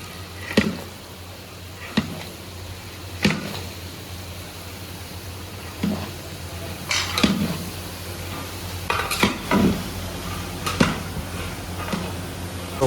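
Soft sizzling of bottle gourd in a pan punctuated by regular scraping and clinks of a spoon stirring against metal, close and steady, no talking.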